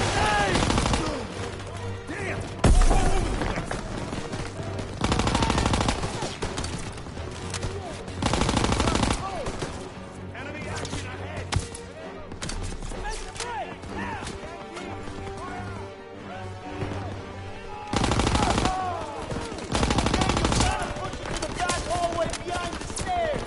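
Close, loud machine-gun bursts in a World War II battle inside a building with stairs, sharp repeated rattles broken by pauses, with fainter shots and commotion between them.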